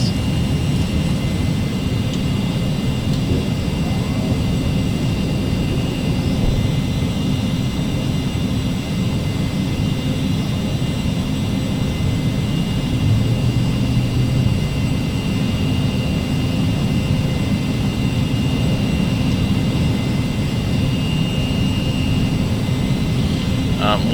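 Carenado Cessna CJ2 business jet taxiing in the Prepar3D V3 flight simulator, a steady low engine hum with a faint high whine running evenly throughout at ground idle, no breaks or changes in level.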